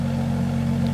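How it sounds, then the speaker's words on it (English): Exhaust of a BMW F25 X3 35i M-Sport idles low and steady in warm weather, a loud, even drone held for about a second with no talking. "the exhaust is very loud."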